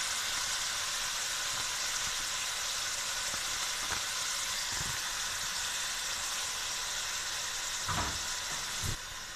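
Half a kilo of goat kidneys for achari gosht sizzle and hiss steadily in a hot pan, a continuous close frying crackle with a few soft clinks of stirring.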